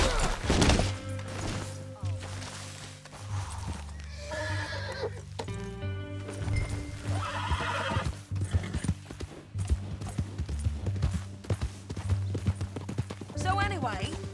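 Horse in the Red Dead Redemption 2 video game, clip-clopping hooves under a voice, with several clear whinnies and snorts, close and moderately loud over a low rumbling game backdrop.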